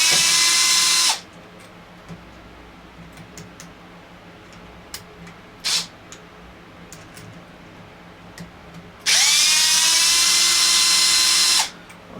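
A power driver backs 2.5 mm screws out of the underside of an Arrma Typhon 6S RC car, two loud whining bursts just over a second each, close up, with light clicks and fumbling between them.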